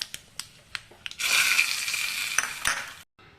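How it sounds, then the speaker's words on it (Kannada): Mustard seeds and dried red chilies crackle and fry in hot oil in a small tempering ladle, a few sharp clinks first, then a loud continuous sizzle with popping bursts that cuts off abruptly. "ಒಗ್ಗರಣೆ ಸೊಟ್ಟಿಗೆ ಎಣ್ಣೆ ಹಾಕಿದ್ದೀನಿ, ಒಣಮೆಣಸು ಹಾಕಿದ್ದೀನಿ, 1/4 ಚಮಚ ಸಾಸಿವೆ ಕಾಳು ಹಾಕ್ತಿದ್ದೀನಿ"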